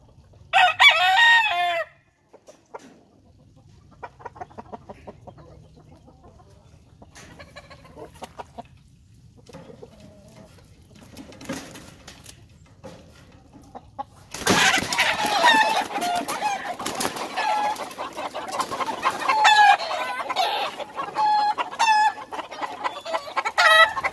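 A bantam rooster crows loudly up close at the start, then clucks and squawks repeatedly, growing busier and more agitated toward the end, while people talk nearby.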